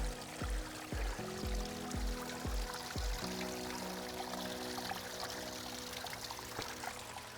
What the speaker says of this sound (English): Water on the trails.